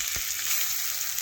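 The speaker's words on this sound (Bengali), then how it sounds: "ভালোভাবে খুরপি দিয়ে নাড়াচাড়া করে মশলা একটু ভালোভাবে কষিয়ে নিচ্ছি" Spices with chilli powder, ginger, cumin and garlic paste sizzle in a pan for an egg curry while a spatula stirs them, a steady close hiss with a single brief scrape near the start.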